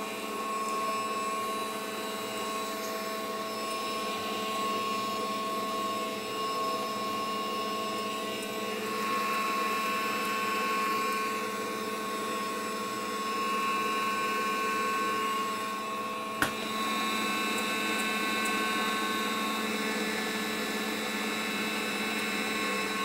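A stand mixer runs steadily whipping marshmallow mixture of beaten egg whites with cooked sugar and gelatin, a constant motor whine with a single brief clack midway.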